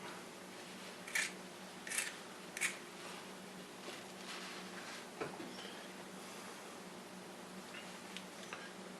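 Scissors snip through a strip of Grinch prosthetic fur in three quick, close cuts early on, followed by a faint fainter snip and soft rustling over a quiet room hiss.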